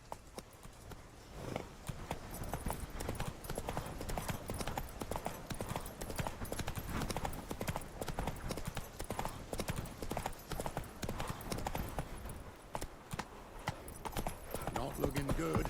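Horse hooves clip-clopping in a steady, continuous rhythm in The Witcher 3 game, close and fairly loud, with occasional voices over the hoofbeats.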